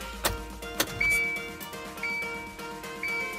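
Car ignition chime beeping before the engine is started, three evenly spaced electronic tones about a second apart over a faint interior hum, with a couple of sharp clicks at the start.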